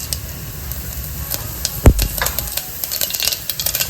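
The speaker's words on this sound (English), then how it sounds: "I'm adding in a teaspoon of mustard seeds, half teaspoon of cumin seeds" Mustard and cumin seeds sizzle and crackle in hot oil in a pan, a steady close frying hiss with scattered pops and one sharp clatter of a spoon or pan, with no talking.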